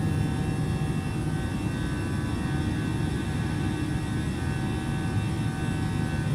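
A simulated Airbus A319 jet in Microsoft Flight Simulator takes off with a steady, loud engine roar and a constant whine, unbroken and without voices.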